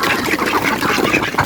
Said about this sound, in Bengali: আমার হাঁসগুলো কিন্তু চলে আসছে